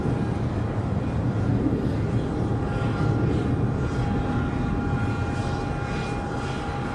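Airliner taking off at Charlotte Douglas airport, a steady loud engine roar with broadband rumble holding evenly throughout, with no speech.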